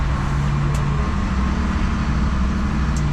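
A truck on a CDL driving test, with a steady, moderate engine drone and road rumble from inside the cab as it turns, plus a couple of faint brief high hisses.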